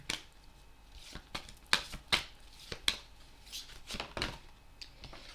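Tarot or oracle cards being reshuffled during a card reading, a close series of crisp flicks and riffles in uneven bursts, with quiet gaps between them.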